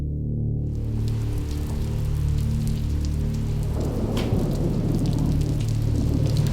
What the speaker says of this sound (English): a huge storm hits Chester